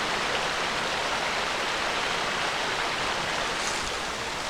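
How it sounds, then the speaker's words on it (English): A river rushes below a forest trail near Wren Falls, giving a continuous broadband wash of flowing water, steady and moderately loud with no voices. "Now that's only about 25 feet down to the river."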